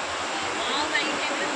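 Hudru waterfall in Ranchi gives off a steady, broadband rushing roar that stays constant throughout, with a voice faintly present underneath.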